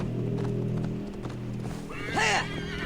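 A horse in Assassin's Creed Valhalla whinnies loudly with a rising, quavering neigh over steady clip-clop hoofbeats and a background drone, close and clear.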